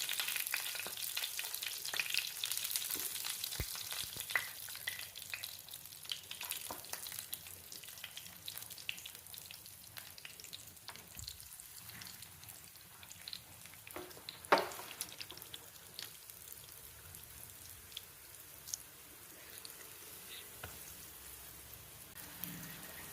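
Masala-coated plantain slices and curry leaves frying in hot oil in a pan, a faint, continuous crackling sizzle with scattered pops, heard close and without speech.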